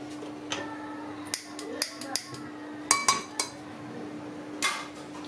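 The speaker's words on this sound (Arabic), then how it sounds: "هنا خديت كوكوط، غادي نطيب الوجبه ديالي في الكوكوط." A cocotte cooking pot is handled on a kitchen stovetop, giving a series of sharp metallic clinks and knocks, several close together, over a steady background hum.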